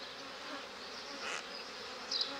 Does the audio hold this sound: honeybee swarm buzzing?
yes